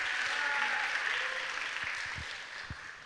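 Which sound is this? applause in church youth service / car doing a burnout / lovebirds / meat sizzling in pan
applause in church youth service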